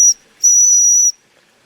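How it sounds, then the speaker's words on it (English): Steam whistle on a Mamod Ol' Stumpy toy traction engine, a short toot followed by a longer shrill, steady whistle blast with a breathy hiss, loud and close, then silence. "Love the old whistle. I'm really glad Mamod brought that back"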